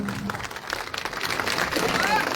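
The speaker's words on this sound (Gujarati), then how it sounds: "જોરદાર તાળીઓથી કરશન બાપુને વધાવીએ" A crowd at a political rally applauds Karshan Bapu Bhadarka in a brief burst of clapping, heard under and alongside a man's loud speech.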